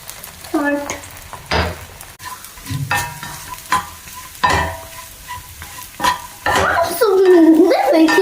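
A spoon stirs potato egg fry with chilli, chilli powder and salt in a sizzling pan, making irregular metallic scrapes and clanks against the pan over a soft frying hiss, with a voice speaking at the end.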